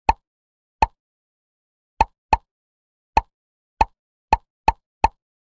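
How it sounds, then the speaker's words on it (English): Bubbles in a children's number game pop when tapped, nine short, clean plops at irregular intervals, each crisp and isolated against silence. "Tap on the bubbles."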